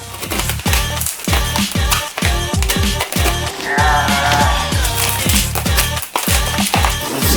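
A blade cutting open a cardboard packaging box holding Porsche 981 GT4 tail lights, close and loud, a rapid series of scraping, ripping strokes with short pauses.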